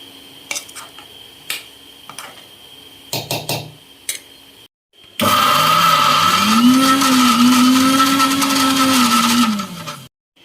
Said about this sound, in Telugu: ఇది కూడా మిక్సీలో వేసి పట్టేసుకోండి